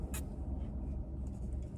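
A car drives along a road, a steady low rumble of engine and tyres from inside the cabin, continuous with no talk.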